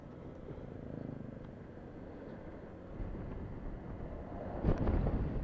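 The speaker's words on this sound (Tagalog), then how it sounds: "lakas ng hangin" Strong wind buffets and rumbles against the microphone during a solo ride from Calamba to Lucena, with a vehicle droning along beneath it and gusts swelling louder toward the end.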